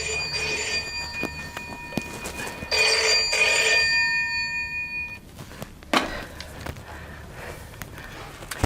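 A telephone rings with bright electronic trills in two bursts, loud and close in a quiet room, then falls silent apart from a few soft handling knocks.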